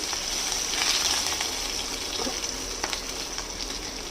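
Garlic cloves and a few green chilies frying in a pan of hot oil give a steady, even hiss that runs throughout at close range, with faint clicks from the pan and no voices.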